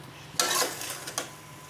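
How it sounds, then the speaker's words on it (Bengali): Bottle gourd and shrimp being stirred in a pan, a couple of short scraping bursts from the utensil against the pan over a faint sizzle, close and fairly quiet. "এটার ভিতর দিয়ে দেবো এখন আমি লাউ, দিয়ে একটু নাড়াচাড়া করে নেব।"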